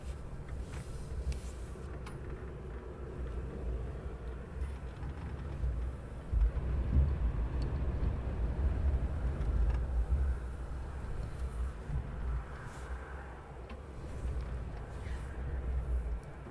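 A Wizz Air airliner taxis at Luton Airport, giving off a steady low engine rumble that holds for the whole stretch, moderately loud and distant, with faint wind and hiss over it and no voices.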